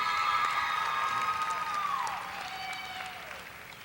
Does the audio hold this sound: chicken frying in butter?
no